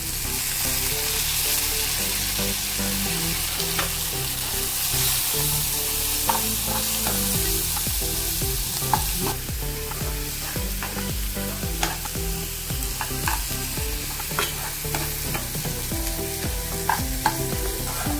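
Onion and tomato sizzle steadily in a hot pan for dal tadka, with repeated scraping and clinking stirs cutting through the constant frying hiss; close, fairly loud, with no talking.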